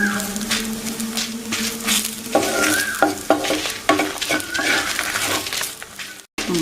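Dried chilies and grated coconut roast in a pan for a traditional Kerala chammanthi, a constant sizzle with repeated spatula scrapes, taps and light clinks against the metal, and a brief dropout near the end.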